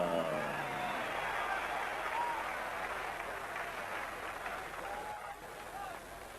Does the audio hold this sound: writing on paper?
no